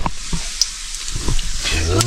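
Perch sizzling as it fries in a pan after a topwater catch, a steady close crackle with brief clinks of a utensil and faint voices behind it.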